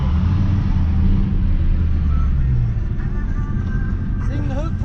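2020 Dodge Charger Scat Pack at a drag strip, its engine a loud steady rumble that eases slightly midway, with people talking over it nearby.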